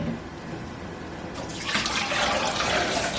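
Water from soaked chickpeas drains off, starting after a quiet moment and becoming a steady rushing splash that continues to the end.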